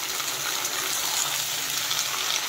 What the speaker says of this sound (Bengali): হালকা হাতে উল্টে পাল্টে দেব